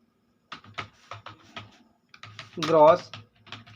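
Computer keyboard typing while entering formulas into an Excel salary sheet: a run of light, irregular key clicks with a denser, louder flurry partway through, close and fairly quiet.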